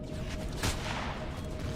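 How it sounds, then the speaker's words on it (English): A cannon turret in the space survival game Empyrion Galactic Survival fires one muffled shot that rises briefly over a constant low rumble of background noise. "Cannon turret is doing its absolute best at the moment"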